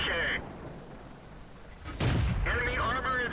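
A tank cannon fires in World of Tanks, one sharp, loud blast followed by game voice chatter and sounds.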